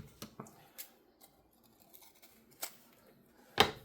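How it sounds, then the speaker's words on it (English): Quiet, close snips of scissors cutting magazine paper for a junk journal, a few sparse crisp cuts with soft paper rustling between them. "I'm just folding it where I want to cut."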